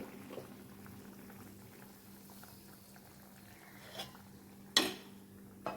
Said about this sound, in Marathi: हे पाणी गरम पाणी असल्यामुळे ते इमिजिएट उकळायला सुरुवात